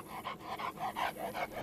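A search and rescue dog pants in quick, even, rhythmic breaths, close and fairly soft, with no other sound over it.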